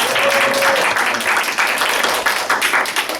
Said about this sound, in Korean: 다시 한번 박수 한번 치겠습니다.